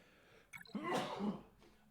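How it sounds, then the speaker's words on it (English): One sharp human sneeze, close and fairly quiet, with a short intake of breath before the main burst and a fading tail, alone in a quiet room. "I just sneezed."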